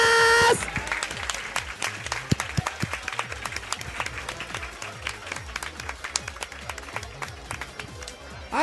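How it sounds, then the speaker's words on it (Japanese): An audience applauds, many hands clapping in a continuous patter that holds steady for several seconds. "優勝はキャメイ蝶大ちゃんです、拍手お願いします。"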